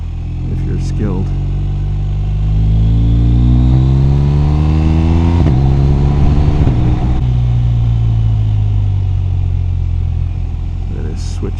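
Onboard ride on a BMW R 1250 RS motorcycle along a twisting mountain road: steady engine drone with rising and falling revs through curves, loud and continuous under wind noise, with a rider talking over it.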